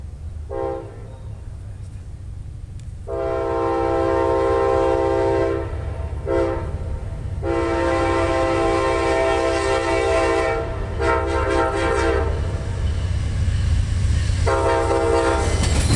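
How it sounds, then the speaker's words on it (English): Amtrak passenger train P090, led by locomotive 817, passing on the CSX A-Line at Pembroke, North Carolina, sounding its horn in several long blasts over a steady loud rumble of rolling cars. "We got Amtrak P090 coming northbound, about to cross over to Pembroke Diamond on the CSX A line in Pembroke"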